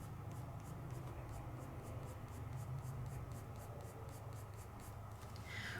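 A KaiserCraft colored pencil coloring washi tape, producing a faint, quick, regular scratching stroke over a steady background hiss, close by and quiet.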